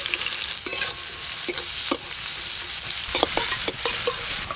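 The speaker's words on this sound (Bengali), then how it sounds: "মাছ রান্না করার জন্য গোটা গরম মশলা ফোড়ন করে নেব।" Whole garam masala and chopped onion crackle in hot mustard oil for a fish dish, a loud, bright sizzle punctuated by repeated knocks and scrapes of a spatula stirring in the pan.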